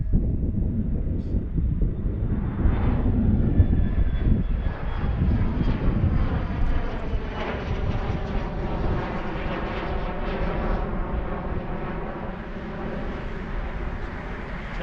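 An airliner roars down runway 9 left at Philadelphia on takeoff, a loud sustained engine rumble and whine rising and then slowly easing as it climbs away.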